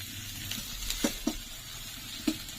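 Onions sizzling in hot oil in a pan while making a shol fish curry, a soft steady crackle with a few sharp spatters and stirring clicks, fairly quiet and with no talking.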